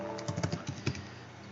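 Quick keystrokes on a computer keyboard while entering a git config command in a terminal, about a dozen light clicks in an uneven burst over one second, close and fairly quiet, then the sound stops.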